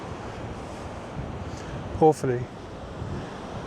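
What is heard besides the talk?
ocean waves breaking against the rocky coast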